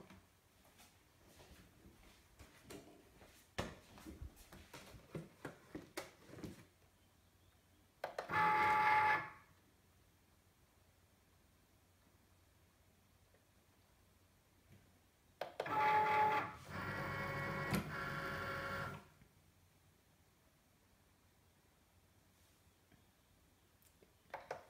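A Cricut cutting machine fitted with a new blade runs a cut. Soft ticks and clicks are followed by two whirring motor passes of a few seconds each, fairly faint and close by.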